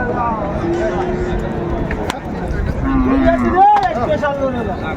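Cattle, including large bulls, moo several times amid a busy livestock market crowd, with people talking and bargaining all around.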